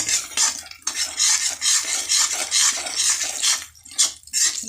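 Ground coriander, cumin and black pepper are stirred in a pan, heard as rhythmic, close scraping and clinking of a metal spoon against the vessel with only a faint sizzle underneath.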